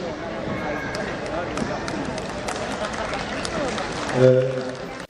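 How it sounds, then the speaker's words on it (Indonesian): An audience applauds at a Ramadan charity gathering attended by the Jakarta governor, a steady wash of clapping and crowd noise with a brief louder swell near the end, voices mixed in. "Oke, kita kasih tepuk tangan lagi dong."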